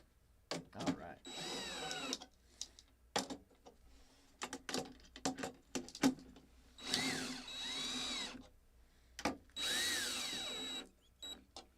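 A power drill drives screws tight during a product assembly, heard as several short whirring bursts and a few longer revving runs, broken by pauses and quiet handling noises.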